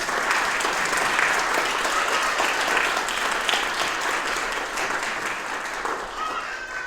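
Audience applause for staff at an awards evening, a broad sustained clapping from a large crowd, even and full throughout, fading slightly toward the end.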